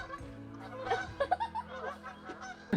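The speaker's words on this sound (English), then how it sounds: "look at the geese go" Several geese honk in short, bright calls at a campsite in New River Gorge National Park, a few overlapping near the middle, with a louder honk near the end over low background noise.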